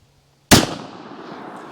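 A single sharp .22WMR gunshot from a Walther WMP pistol fired into ballistic gel cracks after a moment of near silence, then rings out in a decaying outdoor echo.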